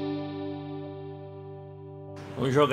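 A PRS electric guitar holds a sustained, heavily overdriven chord that rings steadily, then a sharp, dense new strum cuts in at the end.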